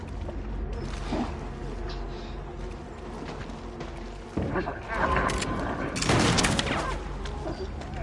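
Gunfire from the Little Nightmares 3 video game, a dense burst of rapid shots with thumping impacts that swells louder in the second half over a steady low game rumble.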